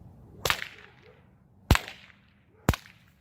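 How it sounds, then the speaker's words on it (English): Three sharp, clean cracks from a whip ring out alone, spaced about a second apart, each a loud snap that fades quickly into quiet. "whatever energy it takes to put into the whip to get a clean crack"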